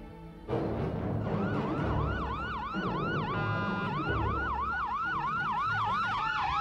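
A police siren wails loudly in a repeating rising-and-falling pattern, starting abruptly after a brief pause and continuing steadily over a rumble of traffic.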